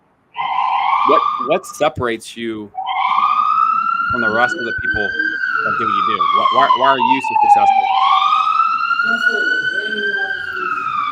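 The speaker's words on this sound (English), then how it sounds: "That's the ambulance. That's not us." An ambulance siren passes outside, its rising and falling wail loud and continuous across the whole stretch while someone talks over it.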